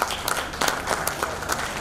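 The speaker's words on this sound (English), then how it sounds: "And one round of applause for" Audience at a Rotary recognition ceremony applauding an honoree, a moderate burst of many hands clapping with irregular sharper claps popping through, no one talking.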